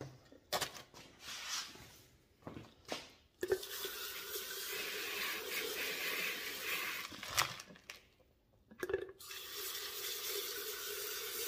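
Water splashing and running over a large tumbled rock as it is rinsed in a rock tumbler barrel, with a steady close wash broken by a couple of brief pauses and sloshes.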